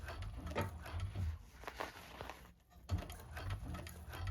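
A 1341 cylinder arm sewing machine stitching a bag, rapid rhythmic mechanical needle clatter running in bursts with a brief pause near the middle, close and moderately quiet.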